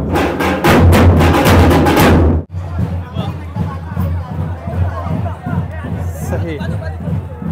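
Dense festival crowd chatter fills the air at the Kunkeri Huda 2024 gathering, a loud roar of many voices that drops suddenly and continues as a softer, steady hubbub with a voice speaking over it.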